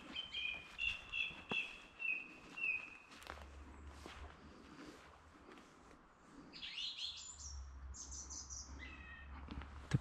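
Several birds chirp and tweet outdoors near a campfire site, bright repeated calls early on and further trills later, with footsteps crunching underneath throughout.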